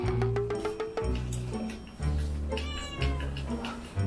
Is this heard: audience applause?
no